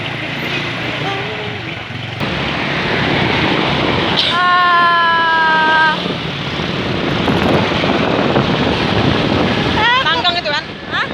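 Heavy, steady wind roar buffets the microphone while riding a motorbike, with a few brief high whistling tones and faint voices mixed into the constant rush.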